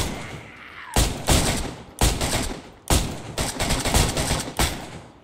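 Heavy gunfire in the DayZ video game, loud bursts of rapid automatic shots separated by brief pauses, sharp and close throughout with no talking.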